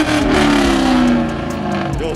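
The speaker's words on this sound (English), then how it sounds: "Rev it!" A modified Nissan G35 revs hard at a car show, a loud close engine roar with rising and falling pitch, while people shout over it.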